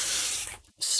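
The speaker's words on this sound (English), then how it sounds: "Spray my canvas there." A spray bottle mists water onto a painting canvas in a close, airy hiss that tapers off, then after a short gap comes a second quick hissing spritz.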